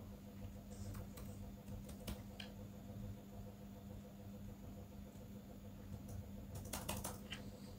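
Typing on a computer keyboard, faint scattered key clicks in small clusters over a low steady hum, quiet and close.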